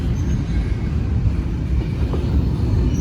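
A CSX freight train rolls past nearby, slowing for a tight curve, a dense steady low rumble with faint wheel and rail noise and no break.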